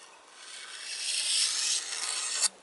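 Clear coat being stripped from a wooden axe handle, a steady abrasive rasping that builds and carries along the length, worked close by and alone, ending with a brief sharper scrape.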